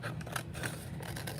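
Scissors snip steadily through a paper template, giving a run of quick repeated cuts close by with no talking.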